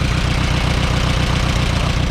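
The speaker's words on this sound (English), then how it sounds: "listen for a change in the engine" A tractor engine idles with one spark plug wire pulled off, giving a loud, close, steady rhythmic chugging that pulses evenly throughout.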